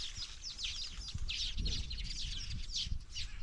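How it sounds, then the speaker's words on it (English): Many birds call from a single tree in the hills, a dense, lively chorus of bright chirps and twitters that stays steady throughout, with faint low rustling beneath. "The sounds of birds are so good."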